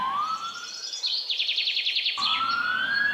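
A cartoon ambulance siren sounds as two rising wails with a rapid warbling passage between them. It is clear and steady, with no talking.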